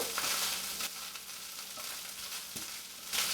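Hamburger meat browning in a pot for gluten-free hamburger soup, stirred around: a soft, steady sizzle with scraping strokes of a utensil, fairly quiet and close, with no voices.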